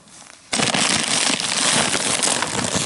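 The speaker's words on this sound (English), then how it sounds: "we're waiting for this fire to get a little more stoked" An outdoor campfire crackles loudly and densely right beside the listener during a car-camper trip across the United States, with a sudden start after a quiet moment and continuous popping and hissing throughout.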